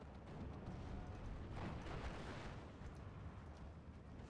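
Pak 40 anti-tank gun firing in Steel Division, a WWII strategy game, heard as a dense rumbling battle din with one heavier boom swelling near the middle, loud and continuous throughout.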